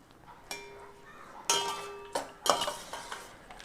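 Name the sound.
stirring lemon rice in a pan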